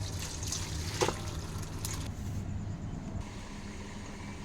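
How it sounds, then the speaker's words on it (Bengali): Cooked rui fish curry is poured from a pot into a bowl, a soft wet pouring and splashing lasting a few seconds with one brief clink, quiet and close. "এবারটা আমি নামিয়ে নিচ্ছি, তো গামলাতে ঢেলে দিচ্ছি।"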